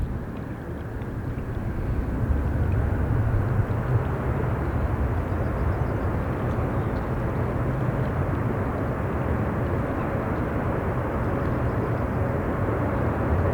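A Boeing 777 airliner at an airport in high winds, a steady broad roar of jet engines blended with heavy wind buffeting the microphone, continuous and loud throughout.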